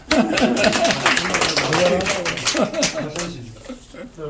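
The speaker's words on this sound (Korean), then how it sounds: "박수 한번 줍시다" At an anniversary meetup of a railway professionals' online community, a short round of clapping from the gathered audience sounds under overlapping talk and laughter, fading toward the end.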